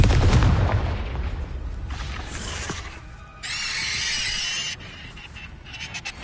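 A Confringo blasting spell goes off in a Harry Potter video game on PS4, a heavy opening boom followed by crackling, hissing bursts and a sustained bright roar of spell effects, loud and close, with no talking.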